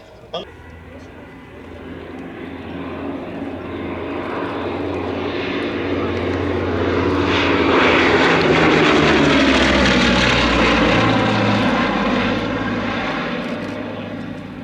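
A twin-engined Bristol Blenheim propeller aircraft drones overhead at a Shuttleworth flying display, its engine roar swelling steadily to a loud peak and then slowly fading, with a voice talking over it.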